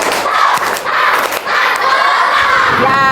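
A class of children claps and shouts together loudly and close by, an energetic Indonesian spirit chant with hand claps landing in rhythm.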